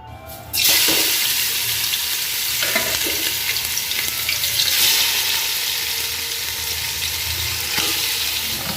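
Marinated chicken hitting hot oil sets off a loud, dense sizzle that starts abruptly and carries on steadily, with occasional stirring scrapes and no talking.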